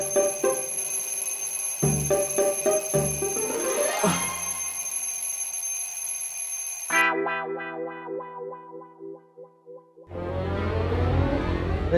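Many alarm clocks ringing at once, a layered clatter of electronic beeping and metallic bell-like tones that shift and overlap, loud and close, with brief pauses before a fresh burst of ringing.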